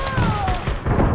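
A grenade blast in the shooter game APB Reloaded, a loud crashing boom filling the short moment with rumbling debris and a ringing tone.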